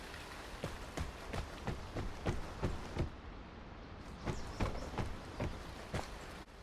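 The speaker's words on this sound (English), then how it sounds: "You're going to hear footsteps sound like this" Footsteps on the ground in the video game Vigor thud in a steady walking rhythm, about a dozen close, distinct impacts with a brief pause midway, over faint ambient background.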